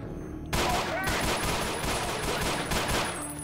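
A burst of pistol gunfire in the video game Ashes 2063, several close, loud shots fired in quick succession after a quiet moment, ringing out and trailing off.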